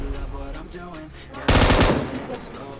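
Machine gun fire in a shooter video game, likely an M249 in rush mode: quieter scattered game sounds give way to a loud sustained burst of automatic fire that trails off.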